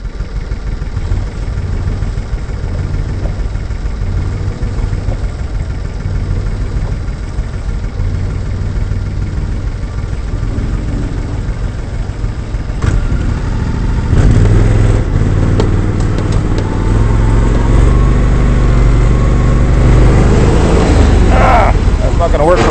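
Argo amphibious ATV engine driving along a muddy spring trail, a steady low drone that grows louder and rougher after midway, with people talking over it.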